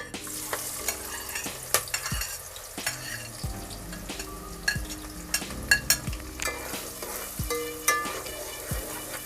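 Onions frying in oil with bay leaves, green cardamom, cloves and a piece of cinnamon, a continuous close sizzle broken by sharp clinks and scrapes of a spoon against the pan, no talking.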